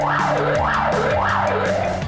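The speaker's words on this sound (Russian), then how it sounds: "Обязательно проверяется состояние пожарной машины, в том числе сирена и маячки." A fire truck siren tested at a rescue station, a loud, close electronic wail sweeping steadily up and down in regular cycles, alone.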